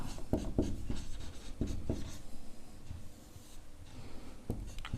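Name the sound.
writing a maths solution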